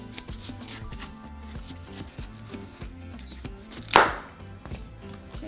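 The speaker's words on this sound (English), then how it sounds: "So I'm going to start by cutting the ends." A knife slicing the ends off a watermelon, one sharp crunching cut through the rind standing out over a low background of music.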